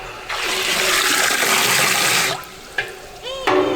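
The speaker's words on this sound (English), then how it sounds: "The water's filling up here." Water rushing and splashing as it fills an ice bath set up for chicken processing, a loud, steady gush that cuts off partway through, followed by a few drips and small gurgles.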